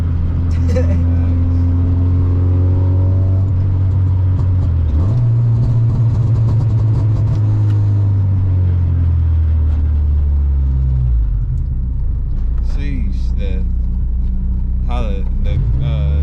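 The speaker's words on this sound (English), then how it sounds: "The engine is actually loud as fuck." Honda EK hatchback accelerating hard, its loud engine and aftermarket exhaust droning and rising through gear pulls from inside the cabin, with a shift-like dip midway and passengers talking over the roar.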